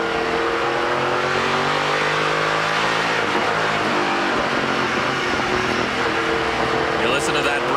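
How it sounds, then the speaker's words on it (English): A Castrol Edge Dodge race car in the NASCAR Pinty's Series roars steadily with its new engine, its loud, continuous drone rising and falling in pitch throughout, while a voice speaks over it. "You listen to that brand new power plant sing on this Castrol Edge Dodge."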